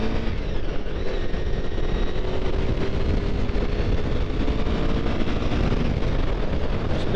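A Honda VFR800Fi motorcycle running a Procom setup revs hard with a loud, continuous engine drone under heavy rushing wind, held at a steady pitch throughout, with no talking.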